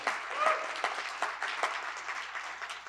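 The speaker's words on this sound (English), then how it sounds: "Can we give him a round of applause real quick, please?" Audience applause at a Philadelphia youth award event, a steady spread of clapping from a room full of people lasting a few seconds at moderate distance, with faint voices mixed in.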